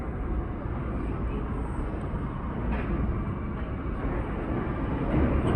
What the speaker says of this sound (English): here's an R local bound for 71st Continental